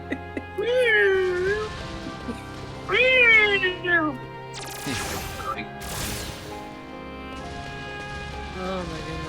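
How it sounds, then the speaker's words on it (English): A pet cat meows loudly twice at close range, each call a rising and falling wail, followed by clattering knocks and bangs from a video game playing nearby. "cats don't meow to other cats. They meow to you."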